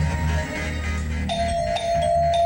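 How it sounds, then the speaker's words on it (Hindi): A doorbell chimes twice, with a sustained ringing tone, over a low background hum of music or room noise. "घंटी क्यों बजा रहे हो भाई?"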